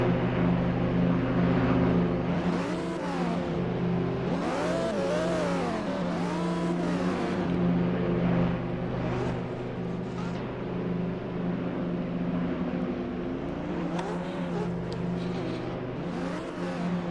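Sports race cars at the 2023 RFTC SNGP event rev and drive around the track, engine notes repeatedly rising and falling as cars pass, loud and continuous with several overlapping cars.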